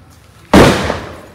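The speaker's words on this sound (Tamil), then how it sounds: "பட்டாசு வெடிக்குமா?" A single loud firecracker bursts during Diwali celebrations, a sharp bang followed by a crackling roar that tails off slowly over a second, with no talk over it.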